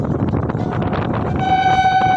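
A train rumbles along steadily, then a loud sustained horn sounds in the final stretch, blaring over the running noise.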